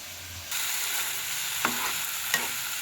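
A spice masala fries and sizzles in a pan with a steady crackling hiss. Two short scraping stirs of the spatula stand out near the end, and no one speaks.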